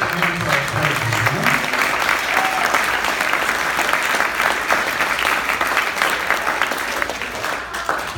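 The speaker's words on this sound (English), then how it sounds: "let's give a round of applause" Loud, sustained applause from a crowd at a 2018 hockey team's awards banquet, dense clapping with some cheering and voices mixed in, continuing throughout.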